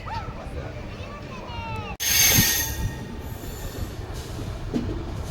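Train rolling along rails on the Velankanni to Ernakulam route, with a sharp burst of wheel screech partway through, loud and close, rumbling steadily underneath.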